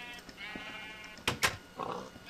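Sheep bleating in the Minecraft video game, two short sharp bleats in quick succession, fairly close, with faint background game sounds around them.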